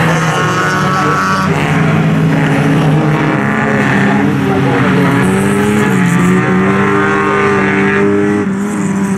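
A rally car at a Motopark rallycross event in Finland drives past with a loud, continuous engine roar whose pitch rises and falls as it goes by, with no voices.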